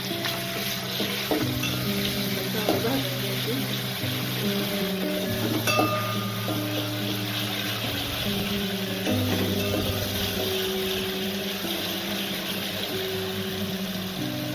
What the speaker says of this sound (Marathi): तर त्याच्यामध्ये आपण मिरची भाजून घेऊया